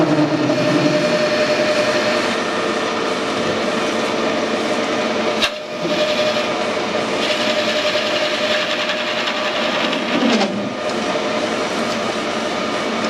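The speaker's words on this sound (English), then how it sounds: "Nice to hear those chips are breaking aluminium." A lathe turning aluminium on a Honda crankshaft tail adapter, with the chips breaking cleanly, gives a steady, loud machining roar with brief dips near the middle and end, and no talking.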